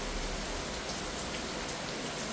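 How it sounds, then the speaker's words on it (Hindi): Heavy rain pours down steadily in a sudden downpour, a dense, loud, continuous hiss of drops beating on surfaces with no breaks. "खतरनाक बारिश शुरू हो गई, अब ये देखे।"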